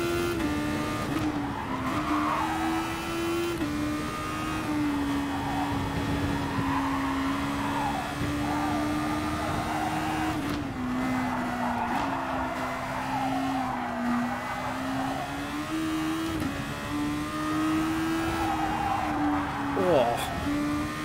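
A Renault-powered Super Formula race car in Gran Turismo Sport howls at high revs through a sustained run, pitch rising and dipping with gear changes, with tyre squeal and commentary talk over it.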